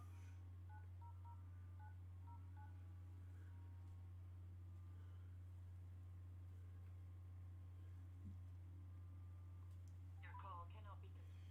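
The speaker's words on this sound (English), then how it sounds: "Let me go to the regular phone and actually type it in." Touch-tone keypad dialing on a regular telephone, a run of short DTMF beeps early on over a steady low hum, then faint scattered tones later, with no talking.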